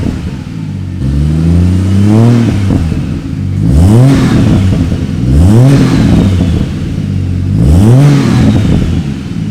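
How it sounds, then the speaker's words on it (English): A Ford FG Ute turbo engine with a full stainless turbo-back exhaust revs repeatedly, four rising swells of deep exhaust tone, each climbing and falling back, loud and close. "You can hear the turbo."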